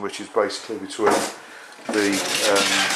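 A newly built greenhouse sliding door grinds and scrapes against a step as it slides, a rough rasping drag under a man's speech.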